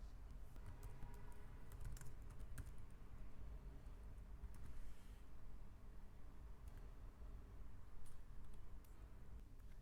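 Computer keyboard typing while text in a file is edited, steady clicking keystrokes running throughout at low level, close and continuous with no talking.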